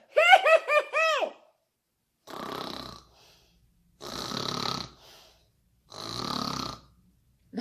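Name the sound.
snoring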